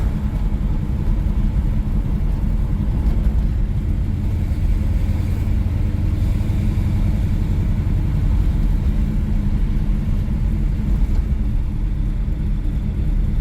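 A 1970 Plymouth Roadrunner driving in fourth gear, its engine a loud, steady low rumble that holds evenly throughout with no talking.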